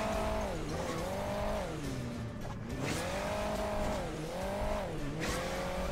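Racing car engine in the mobile game Hill Climb Racing 2, a continuous loud revving whine that repeatedly rises and dips in pitch as the car accelerates and eases off, with tire squeal mixed in; no voices.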